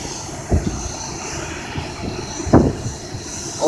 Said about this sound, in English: we have so many planes.